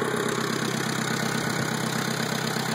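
An International 364 tractor's BD-154 diesel engine runs steadily at about 1,000 RPM after a completed repair, giving a continuous, loud, even engine drone throughout with no talking.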